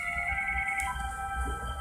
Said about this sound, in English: Sorry about the phone there. I was trying to keep that from ringing too loud in the video.